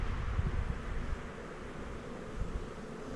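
Honey bees buzzing around an opened, heavy hive box full of honey during a hive inspection, a soft continuous hum mixed with low rustling, close and fairly faint.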